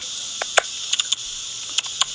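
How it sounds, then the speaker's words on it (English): Sparse keyboard clicks tap out irregularly over a steady high-pitched hiss, a handful of separate keystrokes spaced unevenly. "I hear like somebody's typing."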